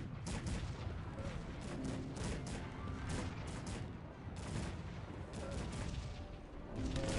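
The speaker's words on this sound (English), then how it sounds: "A lot of cannon fire going on." A Cossacks 3 battle in a tournament final, heard as rapid, overlapping cannon fire: repeated booming volleys close together over several seconds, dense and loud, with no talking.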